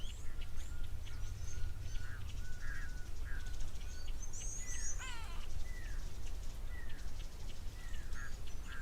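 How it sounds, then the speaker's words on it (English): Grey go-away birds and a pearl-spotted owlet call at an African waterhole, with scattered chirps, whistled series and one fast descending burst. The calls are distant and moderate over a steady outdoor hiss with insect noise. "And the pearl-spotted owlet calling again, as well as the grey go-away bird."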